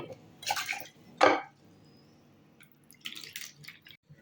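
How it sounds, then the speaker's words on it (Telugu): Half a cup of moong dal rinsed in water in a vessel, close splashy swishes and drips in a few short bursts with quiet pauses between, a light clink of the pot, no speech. "హాఫ్ కప్ పెసరపప్పు తీసుకొని శుభ్రంగా వాష్ చేసుకోవాలి"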